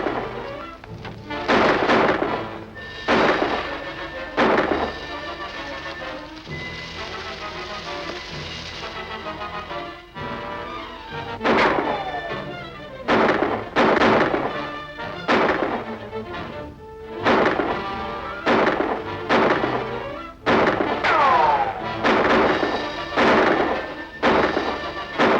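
Gunfire in a 1944 movie serial shootout among rocks near a harbor: repeated loud, echoing shots in irregular bursts, some close together, with reverberant booms trailing each crack.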